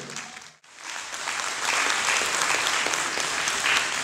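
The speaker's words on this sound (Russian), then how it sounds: "Друзья, встречаем аплодисментами" Audience applause in an organ concert hall fills the space after a brief pause, a dense steady clapping that swells and holds loud throughout.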